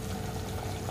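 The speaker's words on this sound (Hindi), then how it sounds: "इसमें बॉयल आ गया है, देखिए।" Soya chaap curry in a dhaba-style malai gravy bubbles at a steady boil in a pan, a dense, continuous burble of bursting bubbles heard close up for under a second.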